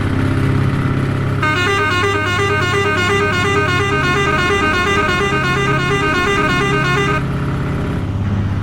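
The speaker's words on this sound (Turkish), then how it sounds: "Çok iyi kornası var ya." A Scania truck in Euro Truck Simulator 2 with ProMods, hauling a heavy load on an Alpine route, sounds a loud, sustained multi-tone horn for several seconds over a steady engine drone.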